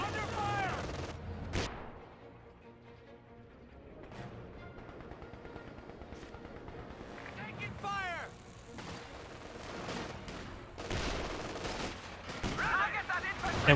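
Anti-tank gun fire and other weapons boom in a World War II battle in the Company of Heroes 2 strategy game, with several sharp blasts and bursts spread across the scene amid rumbling combat noise.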